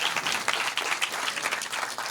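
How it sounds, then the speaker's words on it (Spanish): Steady applause from a conference audience, dense overlapping clapping throughout, moderately loud and continuous. "Un aplauso, gracias, gracias."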